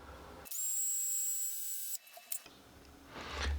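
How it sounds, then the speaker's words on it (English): A steady high-pitched power drill whine runs for about a second and a half while tightening nylon lock nuts, then stops, followed by a few soft scraping and rubbing noises up close. "If you're going to use a drill on nylon lock nuts, you can't go very fast"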